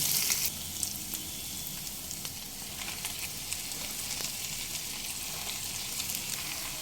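Chicken keema frying in oil in a pan as washed, chopped spinach goes in: a steady, close sizzle throughout, with a brief louder burst at the start and faint stirring clatter on top.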